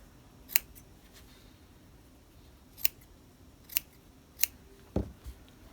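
Scissors clipping fabric near stay stitching snip five times, sharp and close, spaced unevenly over a quiet background.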